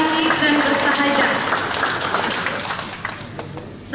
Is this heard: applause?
yes